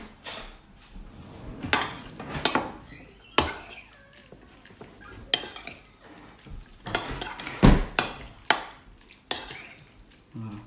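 Salad of mixed land and sea ingredients tossed with olive oil, utensils scraping and clinking against the bowl in irregular bursts, with soft wet stirring in between, close and fairly clear.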